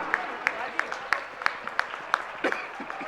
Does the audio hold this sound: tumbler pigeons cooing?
no